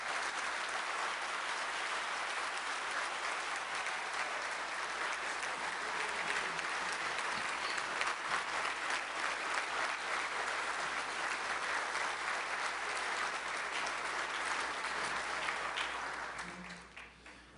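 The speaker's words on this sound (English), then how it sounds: "please give President Moreno a big round of applause" At a business investment forum on Haiti, a large audience gives a sustained round of applause, a steady dense patter of clapping that carries on for many seconds before fading out at the end.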